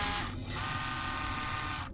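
An Oral-B AI electric toothbrush with Bluetooth runs in a close, steady high buzz that dips briefly near the start, then hums on evenly until it stops.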